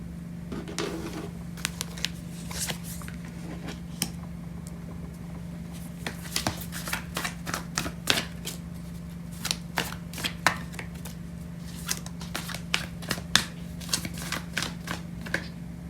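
Tarot cards are shuffled by hand in bursts of quick, papery riffles and taps, fairly faint, over a steady low electrical hum.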